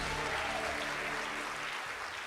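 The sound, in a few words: church congregation applauding the name of Jesus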